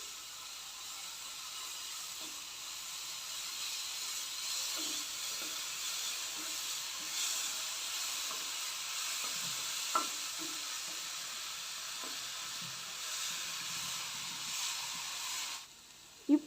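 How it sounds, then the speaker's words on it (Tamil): Mushrooms frying in oil in a pan, a steady bright sizzle and hiss that runs throughout, with a few faint clinks of stirring and a sharp knock at the very end. "மஷ்ரூமை ஆயிலே நல்லா ஃப்ரை பண்ணிக்கோங்க."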